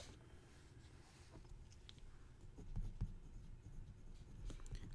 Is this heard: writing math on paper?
yes